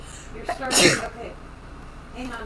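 A single sharp sneeze bursts out close to the mic in the middle of casual chatter during a Minecraft session, with people talking before and after it.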